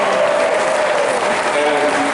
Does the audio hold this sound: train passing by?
no